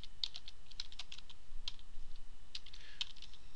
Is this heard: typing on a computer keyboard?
yes